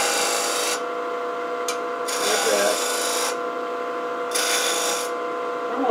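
A wood lathe cuts a coffee scoop with rough scraping and rasping strokes that come in bursts over a steady motor hum, close by, pausing and resuming between passes.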